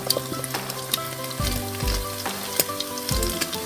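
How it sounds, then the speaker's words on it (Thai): Cauliflower florets tossed into a pan of mixed vegetables with homemade pork meatballs, sizzling and frying steadily with scraping stir strokes and occasional clatters, close and loud with no talk. "จากนั้นแม่เมียวจะใส่ผักดอกกระหล่ำลงไปเลยนะคะ"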